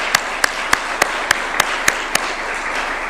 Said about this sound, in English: Please, if they can rise up so that we can applaud them.